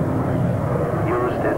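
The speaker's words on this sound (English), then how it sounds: "Sea King helicopter" A Sea King helicopter flies at an air show, a loud continuous engine and rotor roar close by, with a voice talking over it.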